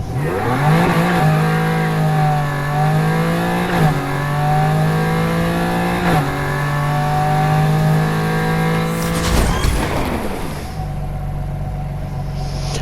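Revving car engine in the racing game Need for Speed Heat, climbing through gears with repeated upshifts, loud and steady, then settling into a lower rumble near the end.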